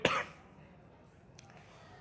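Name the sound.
cough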